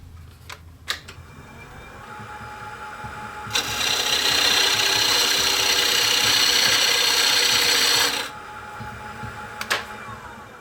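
Metal lathe cutting down a plumb bob blank, a steady loud broadband machining hiss that lasts about four and a half seconds, with quieter workshop noise and faint ticks before and after.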